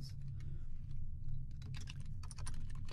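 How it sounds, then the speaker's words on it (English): Rapid keystrokes on a computer keyboard while HTML is typed in, clicking in continuous bursts with brief pauses over a steady low background hum. "we're going to type in some HTML here."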